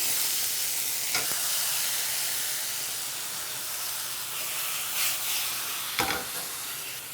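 Tomatoes and jalapeños fry in a hot pan with a loud, continuous sizzling hiss, broken by a few sharp crackles and bursts as they settle into the oil.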